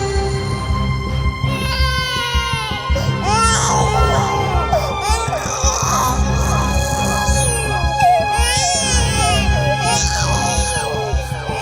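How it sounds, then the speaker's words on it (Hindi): A baby cries loudly and repeatedly in wailing bursts throughout, mixed with a dense background of crowd murmur and other voices. "शोर जैसे कोई बच्चा रो रहा है।"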